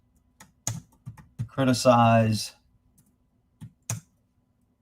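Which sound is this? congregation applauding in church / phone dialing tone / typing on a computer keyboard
typing on a computer keyboard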